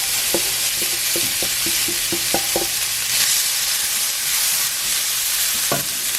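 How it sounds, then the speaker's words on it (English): Garlic, red onion and tomato sizzle in a little olive oil in a pan, a loud continuous hiss up close, broken by a handful of sharp utensil taps and scrapes early on and one more near the end. "I have olive oil in the pan, just a little bit. I'm adding the garlic, red onion, and tomato."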